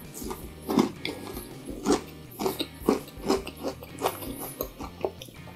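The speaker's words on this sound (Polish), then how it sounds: "Chyba słychać, mamy mikrofon tutaj, jakie to jest chrupiące." Crunchy fried chicken meat snack chewed close to a microphone, with a steady rhythm of crisp crunching bites, about two per second.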